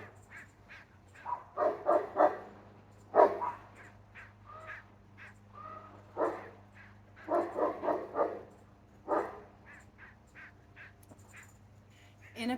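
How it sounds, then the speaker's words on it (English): Neighbor's dogs barking in bursts, with clustered barks and pauses over a steady low electrical hum, moderately loud and somewhat distant. "I'm going to wait a second for my neighbor's dogs to stop."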